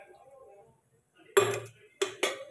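A kadhai is set down on a gas stove to heat for frying fish, giving three sharp close metallic clanks after a quiet stretch.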